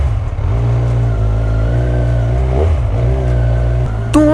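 A Kawasaki Z1000 R motorcycle with its stock inline-four exhaust idles close and loud with a smooth, deep, steady hum, then gives a brief sharp rev at the end, with no talking.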